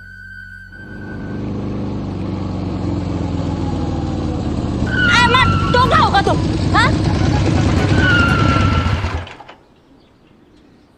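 A motorcycle ridden along a road, engine droning and swelling louder as it nears, then cutting off abruptly near the end; voices speak over the engine.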